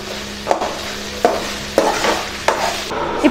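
Ginger and garlic sautéing with tomato in a hot pan, a soft continuous sizzle broken by four or five sharp scraping stirs of a spoon, close and without talk.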